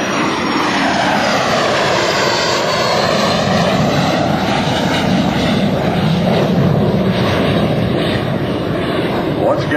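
A propeller airplane roars past close by at an airshow, its loud droning engine shifting in pitch as it goes over.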